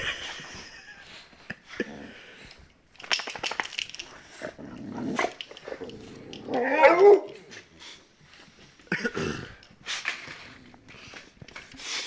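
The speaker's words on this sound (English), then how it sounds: "Here's my doggos. I got some video of them." Several pet dogs close by, giving a few sharp barks, whimpers and snuffling noises among scattered clicks and clatter, at moderate loudness and with no one talking.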